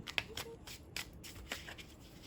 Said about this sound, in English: I'm going to shuffle through here once more.